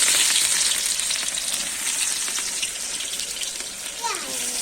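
Onions frying in oil in a wok, a steady loud hiss and crackle of sizzling throughout, with some faint voices under it.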